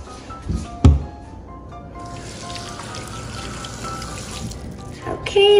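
Grapes and strawberries rinsed under a running kitchen tap, with steady splashing and trickling water, a sharp knock near the start and the flow getting louder at the end.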